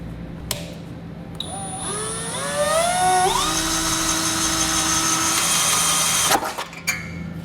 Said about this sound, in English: take a small drill bit and we're going to drill out those rivets